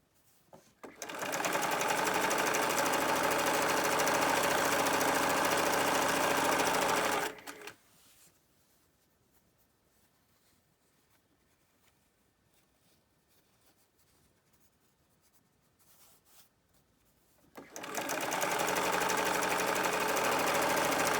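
A sewing machine stitches fabric ties for face masks, running in a loud steady buzz for several seconds, stopping into near silence for about ten seconds, then starting up again.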